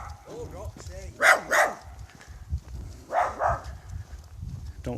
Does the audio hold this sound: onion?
no